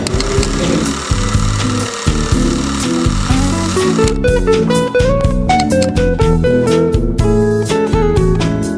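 An old newspaper printing press runs in a museum, loud and close, with steady rhythmic mechanical clanking and thumping that continues throughout.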